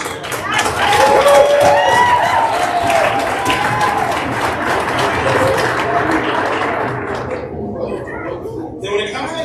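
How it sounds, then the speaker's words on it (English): Applause at a club's annual meeting, a dense crowd clapping loudly and steadily before thinning out toward the end, with voices mixed in. "Round of applause for Sam."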